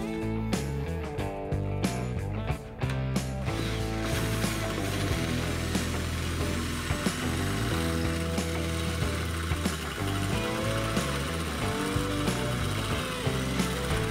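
A Sturm ID21580K compact drill with a 5 mm bit runs continuously for a long stretch, grinding and rattling through a steel angle with a steady mechanical whir and a few brief pitch changes.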